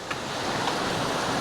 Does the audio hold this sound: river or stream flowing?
yes